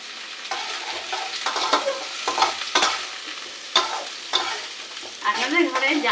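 Vegetables for pasta fry in a pan while a utensil stirs them, giving close scraping strokes over a steady sizzle and occasional louder knocks, with no talking.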